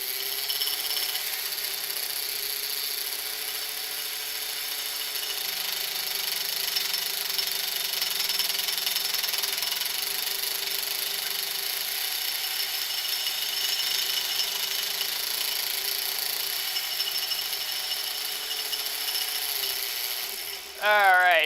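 A sewing machine winds a bobbin at full speed during quilting, giving a steady, continuous high whir that holds level for about twenty seconds before a brief change at the very end.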